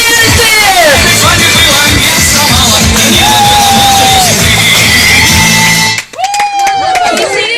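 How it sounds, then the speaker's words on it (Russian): An audience applauds and cheers for the actors of an amateur stage performance of the Ivan Tsarevich fairy tale, a dense, loud crowd wash with yells and whoops over it, briefly dipping near the end before picking back up. "Артисты сцены, для вас аплодисменты!"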